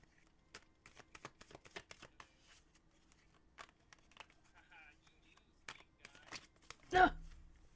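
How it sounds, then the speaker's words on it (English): Tarot cards are shuffled in quick, uneven riffles and slaps over several seconds, quiet and close, ending in a louder burst as cards scatter; a voice speaks faintly in the background. "My shuffling is really not well today. I keep throwing cards around."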